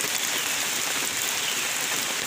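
Heavy rain pours steadily onto a surface, a dense, constant hiss without pauses, close and loud throughout.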